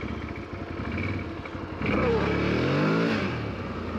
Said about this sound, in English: You hear the belt there kind of protesting